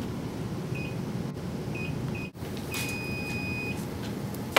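An oven timer chirps a few short, high electronic beeps, then gives one longer sustained beep, over a low room hum with no talking.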